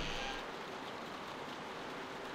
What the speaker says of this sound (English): Bro sitting here in the rain like a madman.